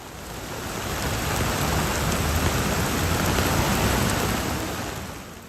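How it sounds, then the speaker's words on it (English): Heavy rain pours down in Tokyo in a dense, continuous roar, swelling in and fading out, loud and close with no voices. "What started as an afternoon rain shower quickly turned into one of the heaviest downpours"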